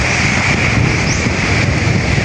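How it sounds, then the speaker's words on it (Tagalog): Strong wind roars steadily across the microphone at the shore, loud and constant, with a hint of surf underneath. "malakas na po ang hangin dito po sa tabing dagat"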